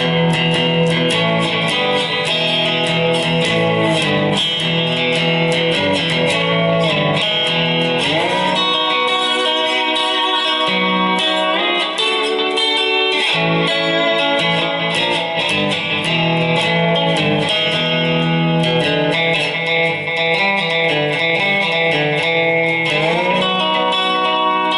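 A lap steel guitar plays a blues line with sliding, sustained notes and rich harmonics, loud and continuous throughout, with no voices.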